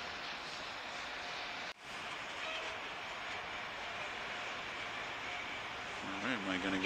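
Freight rail cars roll past at the Port of Montreal in a steady, rushing rumble, with a brief dropout partway through and a faint voice near the end.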